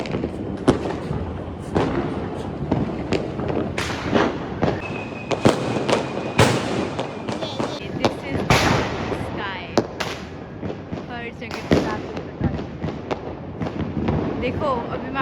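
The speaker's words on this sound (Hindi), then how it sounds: "बस आवाज़ ही आवाज़ आ रही थी स्काई शॉट्स की" Sky shot fireworks going off during Diwali, a dense stream of sharp cracks and pops at varying distances, some close and loud, over a steady background rumble with voices faintly mixed in.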